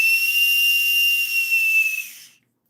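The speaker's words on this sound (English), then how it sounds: "The old weenie whistle." A whistle blown in one long, steady, shrill blast lasting about two seconds, loud and close, before cutting off into silence.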